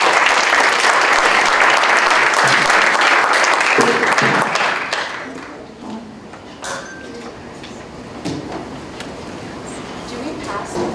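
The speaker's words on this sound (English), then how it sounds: "Let's give them a round of applause." An audience applauds a student team at a community college innovation challenge pitching competition. The clapping is loud and dense for about five seconds, then thins to scattered claps and room noise.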